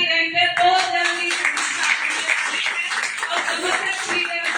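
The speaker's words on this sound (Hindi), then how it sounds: "तो जोरदार तालियों से वेलकम करती हूँ सर आपका" An audience at a weekly meeting applauds as a guest is welcomed, a steady dense patter of many hands clapping close by throughout, with a voice over the start.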